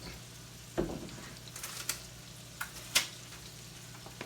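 Crab cakes frying in a pan give a steady soft sizzle, broken by a few sharp clicks and taps from utensils, fairly close and quiet.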